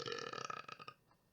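A single loud, close burp from a podcast host, a drawn-out croaking belch of about a second that fades into quiet.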